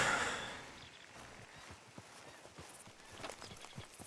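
Soft, irregular hoof clops on a hard surface, a horse walking at an unhurried pace in the video game Red Dead Redemption 2, fairly close, with faint ambient noise.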